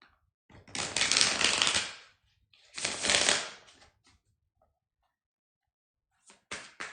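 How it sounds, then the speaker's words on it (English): Tarot cards are shuffled in two brisk riffling bursts of about a second each, close and crisp, separated by a pause, with a few lighter card flicks near the end and no talking. "So let's shuffle the cards and see what Aries are going to experience."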